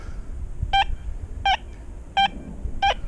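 A metal detector, compared between an XP Deus 2 and a Minelab Equinox, gives four short, clear, evenly spaced beeping tones as it sweeps over a penny, loud and close above a faint background hum.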